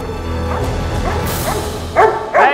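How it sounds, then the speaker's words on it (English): During attack training, a Doberman guard dog lets out two sharp, loud barks near the end, following a stretch of busy, noisy background activity. "The boys have to invest an extra month of training in Doberman"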